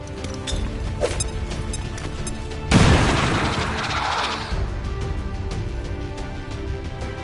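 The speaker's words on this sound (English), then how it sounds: "Grenade!" A grenade detonates in the video game XCOM 2, one sharp heavy blast partway through that rolls off slowly over a bed of low game ambience, with no voices.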